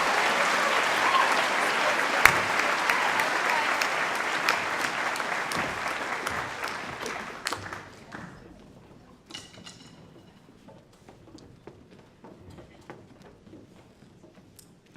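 Steady applause for graduating students at a Year 12 graduation ceremony, sustained and fairly loud, then tapering off into a few scattered claps and a quiet room.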